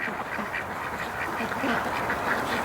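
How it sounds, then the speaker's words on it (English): Muscovy ducks raised for charity make a steady, continuous stream of close, raspy quacking and chatter, dense and unbroken throughout. "Rebel ducks."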